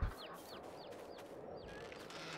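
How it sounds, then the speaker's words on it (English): Chickens clucking in the farming video game Farming Simulator 22: a run of quick repeated calls over a steady, noisy barnyard ambience. "Really don't know what to do about the chickens,"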